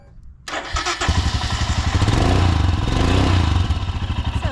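A 2022 Royal Enfield Himalayan motorcycle engine cranks briefly after a quiet moment, catches and settles into a loud, steady, thumping idle close by, with no talk.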